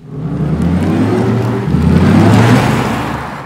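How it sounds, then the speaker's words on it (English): Audi E-Tron GT, a 522 hp electric car, drives past close by with a steady loud whirring hum that swells briefly in the middle before easing off, heard on its own with no talk. "when this drives by, it sounds like an actual spaceship"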